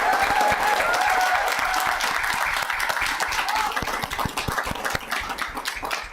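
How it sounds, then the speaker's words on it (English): Applause from a town council meeting audience honoring award nominees, dense and steady clapping that fills the room, thinning slightly toward the end, with no talk over it. "Please join me in giving our individual or group nominees a round of applause."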